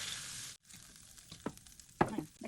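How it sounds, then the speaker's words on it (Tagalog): Shrimp frying in a pan give a steady close sizzle with short gaps, broken by a few sharp crackles and pops as pieces are stirred and moved around. "i-fry muna natin itong shrimp natin"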